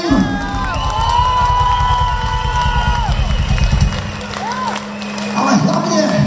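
A concert crowd claps and cheers for a band in Stříbro, loud and dense, with whistles and shouts rising over the roar and voices mixed in throughout.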